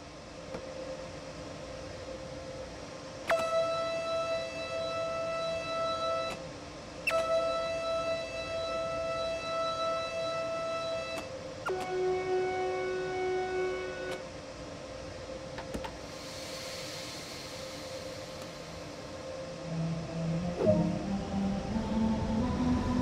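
A BR182 MRCE electric locomotive in Train Sim World 2 begins to move, with steady tonal electric whines stepping in pitch over a low rumble, a brief hiss midway and rising motor tones near the end, no talking.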